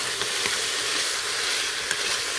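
Beef browning in a 6-quart Instant Pot, a dense, close, steady sizzle and hiss with a few faint stirring ticks, no voices over it.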